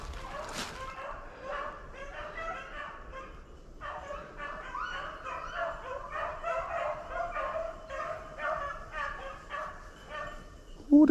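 Hunting dogs bay and yelp continuously while chasing a swamp rabbit through snowy woods, a steady chorus of overlapping barks at moderate distance, with someone talking briefly at the start.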